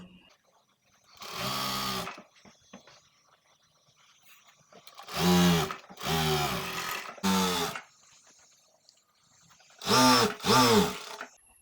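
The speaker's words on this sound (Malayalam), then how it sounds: "ഇപ്പോൾ ടോപ്പിൻ്റെ എൻ്റെ ഭാഗം ഒന്ന് ഫോൾഡ് ചെയ്ത് സ്റ്റിച്ച് ചെയ്യട്ടെ" A sewing machine stitches the folded top of a baby outfit in several short whirring bursts, each a second or two long, separated by quiet pauses.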